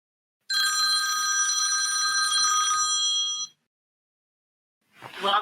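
A telephone rings after the ExoBrain dials its number: one loud, continuous electronic ring lasting about three seconds, then silence and a brief rough burst of sound.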